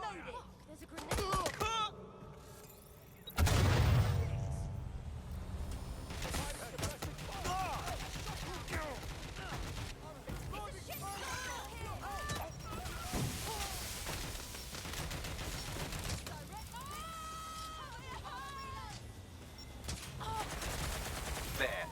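Busy Watch Dogs Legion firefight with repeated gunshots, bursts and a heavier blast near the start, layered under shouted combat callouts and other game voices throughout.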